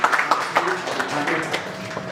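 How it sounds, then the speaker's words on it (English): Audience applause for George, a senior country security manager at Helix International, at a business panel event: moderate clapping from a room, with talking over part of it. "So a round of applause for George."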